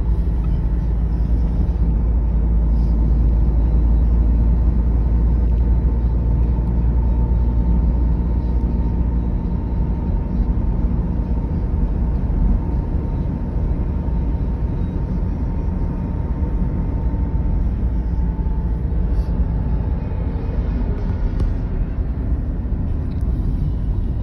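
A continuous low rumble of cars passing on a road cut through a mountainside, steady and fairly loud throughout with no clear gaps between vehicles.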